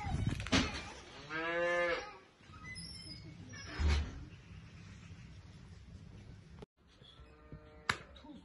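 A cow moos twice, a long drawn-out low followed by a shorter one, fairly close, with farmyard background noise and faint voices.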